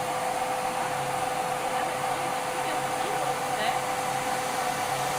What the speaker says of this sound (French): Donc, j'allume l'aspirateur. Tac, j'allume ma broche.